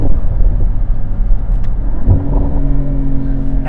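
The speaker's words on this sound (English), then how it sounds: "And you can hear that motor." A Mercedes-AMG SL 63 with a biturbo V8 under way, its engine a loud, steady low rumble with a brief rising rev near the middle, heard close from inside the car with no talking.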